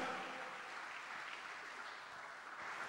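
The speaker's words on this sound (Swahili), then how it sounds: "Washindi wachache wampe Yesu makofi yanayoeleweka" A church congregation at a prayer service claps steadily together, a dense, even wash of applause that fills the whole moment without pause.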